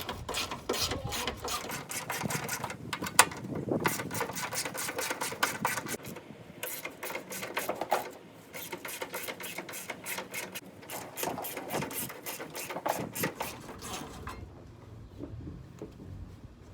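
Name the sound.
removing 10mm radiator bracket bolts on a 2003 Nissan Sentra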